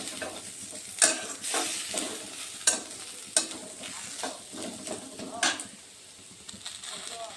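Moong dal frying with whole green chillies in a pan sizzles steadily while a spatula scrapes and stirs, producing sharp intermittent clinks against the metal, with a faint voice in the background.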